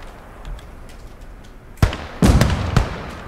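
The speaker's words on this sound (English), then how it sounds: "I threw a grenade" A grenade detonating in the WWII game Gates of Hell, Germans versus Russians, with a sharp close blast followed by further heavy explosive bursts over a low battlefield rumble and scattered distant shots.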